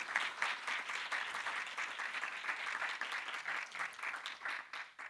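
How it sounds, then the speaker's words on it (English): Audience applause at a university professorial inauguration, a moderately distant, steady patter of many hands clapping that fades slightly toward the end. "you can give her a round of applause for that"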